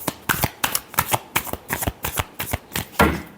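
Tarot cards are shuffled by hand in a series of about a dozen crisp, close riffling bursts at a quick, fairly even rhythm.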